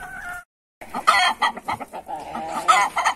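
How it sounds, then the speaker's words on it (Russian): A naked neck hen clucks while laying an egg, a run of close, uneven clucks and squawks with short pauses, heard alone without talk. "Курочка-голошейка несется."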